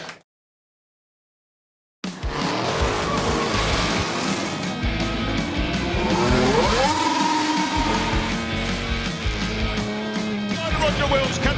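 A race car takes a curve at Goodwood and runs wide onto the grass, its engine roaring loudly and continuously with rising revs and tyre noise, while an announcer talks over it.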